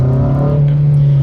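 A Honda Civic Si engine with an aftermarket AfDynamic intake hums steadily and loudly under acceleration with a rushing, sucking intake note, the pitch holding fairly constant rather than climbing.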